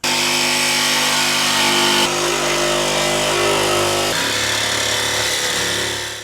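A power tool trimming NSU rear wheel tubs, a loud continuous grinding whine held steadily for six seconds with two abrupt shifts in pitch and load, then tapering off at the end, with no talking.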